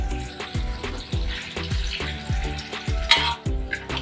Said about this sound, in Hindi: तो राजमा को मैश करेंगे।